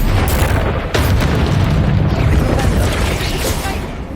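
The Bombarda explosion spell in the video game Hogwarts Legacy goes off as a loud, sustained booming blast with a rumbling roar and a brief renewed burst partway through.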